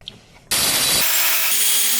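After a faint tap, a loud, harsh rasp of a saw cutting through a metal clamp begins abruptly and grinds on steadily, close by.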